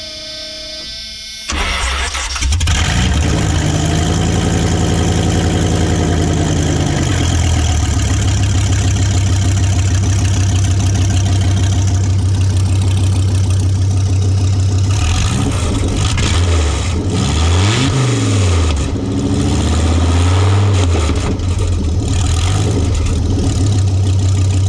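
A 1981 Dodge Ram engine cranks and catches, then settles into a loud, steady idle with rising and falling revs partway through, close by and with no talking.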